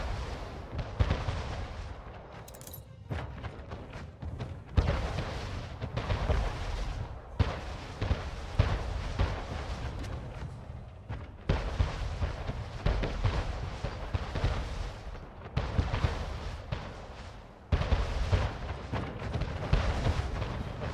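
Naval cannon fire from a fleet in Anno 1800 booms repeatedly in heavy, low, evenly spaced volleys across a long battle, each blast close and loud with a rumbling tail.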